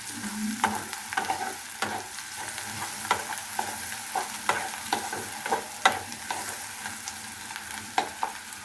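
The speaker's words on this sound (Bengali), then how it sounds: "পেঁয়াজটা আমার ভাজা হয়ে গিয়েছে" Onion sizzles steadily as it fries in a pan for a fish dopeaja, with a stirring spoon scraping and tapping at an irregular, frequent pace, close and moderately loud with no talk.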